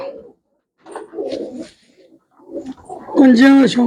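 Pigeons kept for sale by a Punjabi fancier coo in low, rolling bursts close by, broken by short gaps, while people talk over them toward the end.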